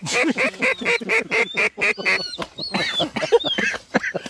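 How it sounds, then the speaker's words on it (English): Ducks quacking close by during a hunt, a green-headed mallard drake among them, with a rapid run of loud repeated quacks followed by scattered calls and high whistling notes. "It's a green-headed duck."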